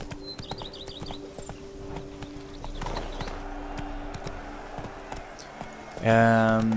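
Horse hooves clip-clop in a steady, quick rhythm over ambient game sounds and music in The Witcher 3: Blood and Wine, ending in a loud burst of tonal sound.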